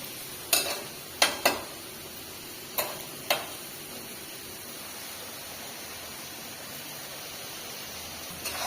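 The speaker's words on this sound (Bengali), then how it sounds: "এই দেখো পেঁয়াজ রসুন কাঁচা ঝাল দিচ্ছি, দিয়ে সিদ্ধ করে নিচ্ছিলাম, এবার ভাইকে নিচ্ছি। একটু ভাজা ভাজা হোক" Onion, garlic and green chilli being fried in a pan give a soft background sizzle, while a spoon scrapes and taps the pan in a few sharp, close knocks early on.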